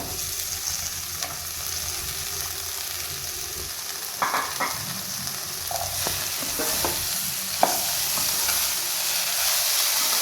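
Okra pieces fry in a pan, giving a steady hiss and sizzle throughout, with a few soft scrapes and knocks of stirring in the middle and no voices.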